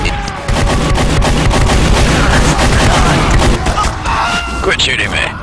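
Gunfire and heavy explosive booms in the video game Team Fortress 2, a dense, continuous barrage of shots and thuds running through nearly the whole stretch, loud and close, with voices talking over the fighting.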